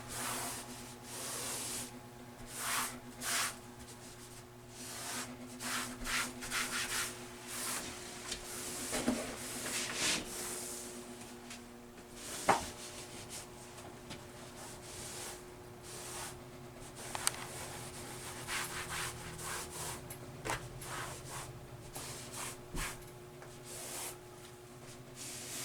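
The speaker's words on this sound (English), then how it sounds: "so now I can use the rag and get rid of that excess" Soft, irregular rubbing and swishing of a rag wiping excess grout off bathroom floor tiles set on a wall, made of repeated close strokes with faint clatters in between.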